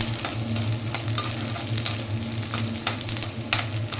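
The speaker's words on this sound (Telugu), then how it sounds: "ఈ వెల్లుల్లి నెయ్యిలో వేయిస్తే చాలా బాగుంటుంది" Garlic fries in ghee with a steady, dense sizzle, broken by a few brief stirring scrapes. The sound is close and continuous, with no voices.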